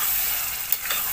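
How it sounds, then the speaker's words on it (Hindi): Chicken liver sautéing with ground green masala gives a steady, close sizzling hiss, broken by a couple of small clicks from stirring. "अच्छे से भून रही है"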